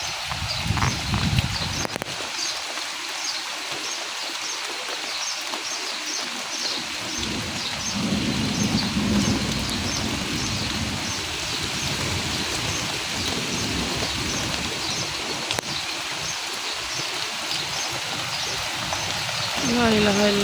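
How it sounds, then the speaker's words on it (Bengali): Rain pours down steadily during a Kalbaishakhi storm in a village, a dense continuous hiss with low rumbling beneath, while a voice talks over it for much of the time. "তো অলরেডি বৃষ্টি পড়া শুরু হয়ে গেছে।"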